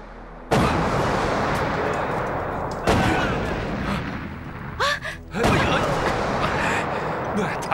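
Artillery shelling in a kung fu war film, loud booming blasts erupting at about half a second, near three seconds and again past five seconds, each followed by a dense rumbling roar that fills the whole stretch.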